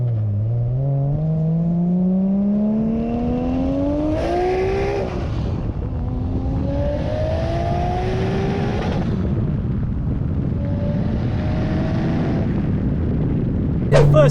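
A 910 BHP big-turbo Nissan Skyline R34 accelerates hard through several gears, its engine note climbing steadily, then dropping at each shift before rising again, loud and close from inside the car, with no talk.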